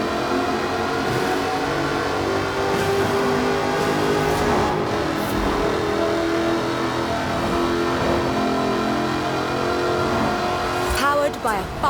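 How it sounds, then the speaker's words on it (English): A supercharged 5-litre V8 aluminium-bodied car in Forza Horizon 4 accelerates, its engine droning and climbing steadily throughout, loud and continuous, while a voice talks over it. "Powered by a 5-litre V8 supercharged engine, with a fully aluminium body, it's blisteringly fast"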